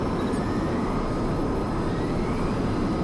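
A jet aircraft taking off in Crysis Remastered, a steady dense engine roar with a faint high whine, loud and unbroken throughout.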